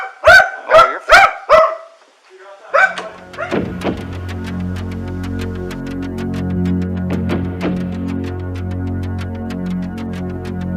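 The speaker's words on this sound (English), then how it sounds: "the first stop of the Cadaver dog in the basement" A cadaver dog barks in a basement, first four loud, sharp barks in quick succession, then a steady low machine hum fills the room while further intermittent barks and yips ring out close by.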